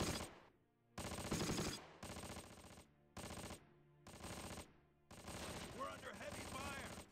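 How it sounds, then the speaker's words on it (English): Machine-gun bursts and rifle fire in the wartime strategy game Close Combat rattle in repeated loud volleys separated by short pauses. "I don't even notice the MG fire anymore"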